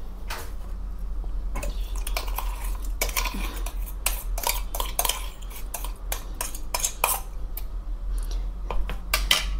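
A metal spoon clinks and scrapes around a bowl, stirring crushed green chili, garlic and ginger paste into curd for Gujarati kadhi; repeated sharp, close taps sit over a low steady hum, with no talking.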